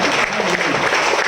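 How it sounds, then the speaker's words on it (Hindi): A church congregation breaks into loud, dense applause that keeps going without a break. "जोरदार ताली, जोरदार"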